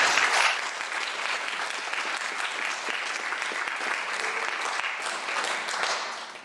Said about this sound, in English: You can give her a clap if you like.